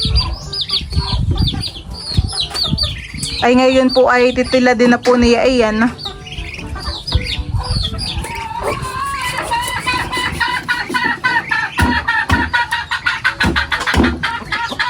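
Native hens in a Filipino backyard cluck and squawk noisily, with a burst of loud harmonic calls partway through, all under someone talking close by.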